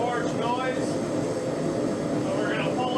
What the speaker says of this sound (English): Sorry about the forge noise